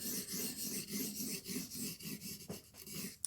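Knife bevel being re-profiled on a TSPROF Blitz 360 sharpening stone, a steady rhythmic rasping of steel strokes across the stone, close and fairly loud, with no talking.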